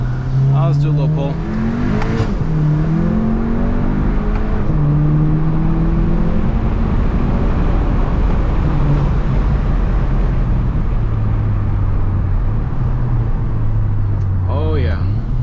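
A loud, tuned MK7 VW Jetta GLI 35th Anniversary engine revs up and pulls hard in a tunnel, its droning note climbing and echoing, continuous throughout.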